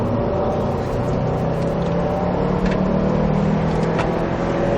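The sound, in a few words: Subaru WRX STI accelerating hard on track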